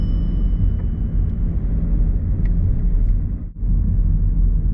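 A car engine during a mock driving test in Mill Hill drones loud and steady from inside the cabin, dipping briefly near the end as the speed falls off.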